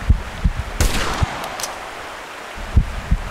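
A .338 rifle fired at a bear in the hunting game Hunting Simulator 2: several sharp, loud shot-like bangs in an irregular sequence, with one stronger blast roughly a second in and more reports near the end.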